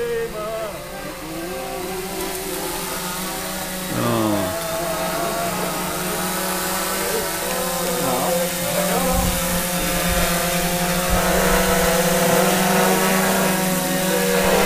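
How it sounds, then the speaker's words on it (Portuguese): A radio-controlled model aircraft drone flies in during a Saturday model-flying meet, its steady buzzing motor drone rising and shifting in pitch over nearly fifteen seconds, fairly close and continuous with no talk. "o piloto e o drone chegando"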